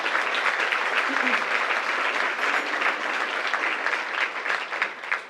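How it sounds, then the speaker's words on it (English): Audience applause fills a hall after a political speech by a city mayor, a dense, steady burst of many hands clapping close and loud throughout with no break. "Now, you can clap for that. You should clap for that."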